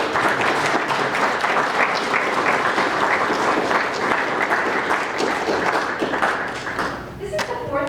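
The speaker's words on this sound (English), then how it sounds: "Give a round of applause" Audience at an academic writing-in-the-disciplines panel breaking into a round of applause: dense, steady clapping from a room full of people that thins out toward the end as a voice starts talking.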